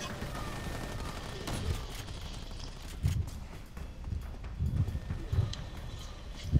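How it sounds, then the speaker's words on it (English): Gatling gun fire in the R.I.P.D. video game: rapid muffled bursts of gunfire at moderate level, with several heavier thumps over continuous game noise. "Gatling gun!"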